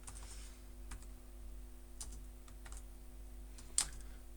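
Someone types on a computer keyboard, entering code in R, with scattered soft keystrokes over a steady electrical hum and one sharper tap near the end; no talk.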